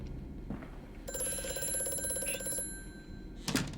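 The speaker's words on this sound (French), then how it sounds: "C'est un téléphone, bordel." An old-fashioned telephone rings in the horror game Amnesia: A Machine for Pigs, one long metallic trilling burst followed by a shorter clattering ring, set against a dim ambient hum with no voices.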